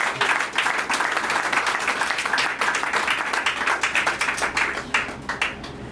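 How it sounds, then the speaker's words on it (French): Applause at a civil wedding in Gabon after a symbolic gesture, dense rapid clapping from a gathered crowd that carries on steadily throughout. "Des applaudissements pour ce geste."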